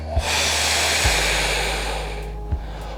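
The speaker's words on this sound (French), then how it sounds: "On prend une grande respiration" A long, steady deep breath drawn during a yoga warrior pose, a broad airy hiss that holds for about three seconds, with a few soft thumps of movement near the start, middle and end.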